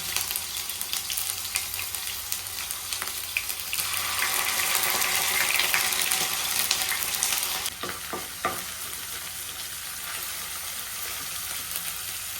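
Ginger garlic paste sizzles loudly in a hot pan, a steady close frying hiss that swells in the middle and then eases, with a few stirring scrapes.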